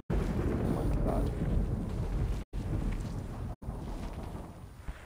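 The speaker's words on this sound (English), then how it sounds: "A lightning storm." Thunder rumbling through a lightning storm in the video game Sniper Elite V2, a sustained deep roar with rain-like hiss filling the whole stretch, briefly cut off twice.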